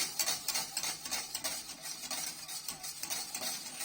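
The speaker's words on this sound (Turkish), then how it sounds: "şu anda sütümüz kaynıyor" Milk boils in a pot for kazandibi pudding while a ladle stirs and scrapes against the metal in quick, irregular strokes.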